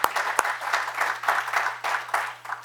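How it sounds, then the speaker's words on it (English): A big round of applause from an audience at a New York State budget presentation in Irondequoit, steady clapping throughout with a few sharper claps standing out, fairly close. "Could you give him a big round of applause for Dave Seeley?"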